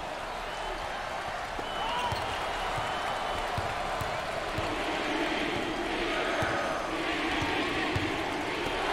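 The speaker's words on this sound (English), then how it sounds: "there's all kinds of people standing and cheering and going wacky" A crowd cheers and claps throughout a college basketball semifinal between Hawaii and Oregon State at the Maui Invitational, a steady dense roar with an occasional ball bounce beneath it.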